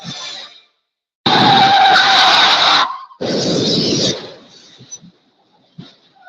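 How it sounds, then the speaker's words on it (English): A car crash sound effect opens with a long, loud tire squeal as a vehicle skids. After a short gap comes a harsh broadband burst of impact, which fades into scattered faint debris sounds and quiet. "That's the sound of a big hit on you and your car or truck."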